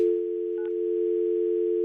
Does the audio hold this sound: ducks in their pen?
no